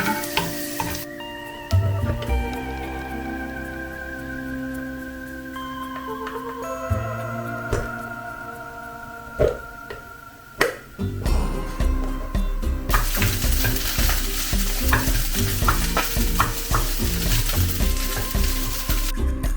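Garlic frying in a home kitchen pan while being stirred, a steady loud sizzle with scraping stir strokes; a running tap briefly before, and after about eleven seconds the frying swells into a dense, bright hiss.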